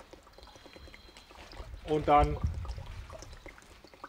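Triaterra aktiv EM liquid and water being poured into a sprayer for flood cleanup, a brief splashing pour in the middle of the clip, heard close under a man's German speech.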